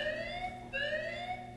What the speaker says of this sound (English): I do not like the siren.